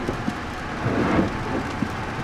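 Heavy rain drumming steadily around a car while driving, with low rumbles of thunder and scattered louder drops, a dense, even wash of sound with no voices.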